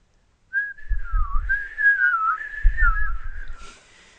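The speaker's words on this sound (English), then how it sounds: "We're just going to keep on doing crappy whistles or doo-doos." A person whistles a wavering, sliding tune, clear and close, with low bumps of handling noise beneath it and no speech.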